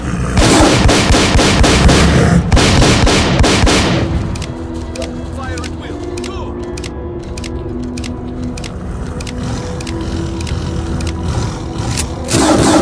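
Rapid automatic gunfire erupts in S.T.A.L.K.E.R. Call of Pripyat. Dense loud bursts of shots come over the first few seconds, then scattered single shots and cracks continue under a steady combat ambience.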